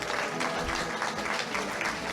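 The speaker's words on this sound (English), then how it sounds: "Give yourselves a round of applause for coming out" An audience applauds at the close of a community debate on the environment, a sustained, fairly soft round of many hands clapping with an even, continuous texture and no speech.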